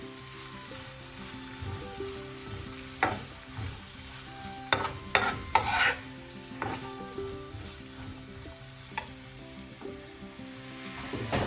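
Sliced onion with salt sautéing in a pan for green bitter gourd stir-fry keeps up a soft continuous sizzle, broken by several sharp scraping and clinking stirs of a spoon against the pan, close and without voices.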